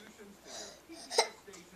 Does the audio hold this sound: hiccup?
yes